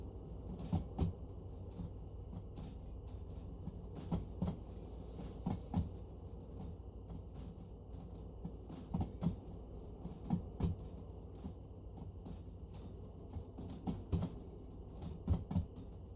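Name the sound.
long freight train rolling in video game Derail Valley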